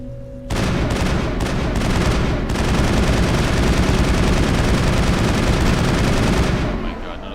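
Loud, rapid bursts of gunfire in Mass Effect 1 blaze almost nonstop for several seconds in a dense rattling stream, then cut off sharply.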